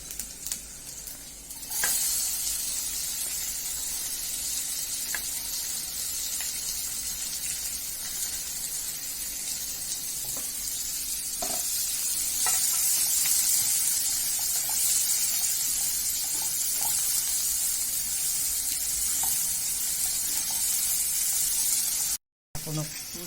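Chopped onion sizzles in hot oil with cumin seeds for a breakfast dish, a loud continuous frying hiss with occasional stirring scrapes and clinks, steady throughout before a brief cut near the end.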